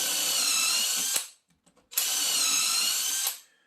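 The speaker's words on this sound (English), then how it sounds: "So it's a matter of just drilling the hole." A power drill whirs steadily in two bursts of about a second each while drilling a hole in plywood, with a brief quiet pause and faint clicks between them.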